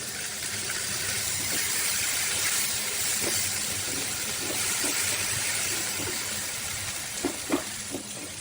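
Water poured into a hot pan of spicy chicken with turmeric and black pepper hisses and sizzles steadily throughout, with a few sharper pops and spatters near the end, close and loud with no talking.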